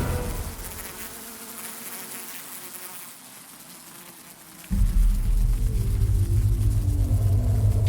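A dense swarm of honeybees buzzes with vibrating flight muscles as they mob a giant hornet, a steady high insect drone that swells into a louder, fuller, closer hum halfway through.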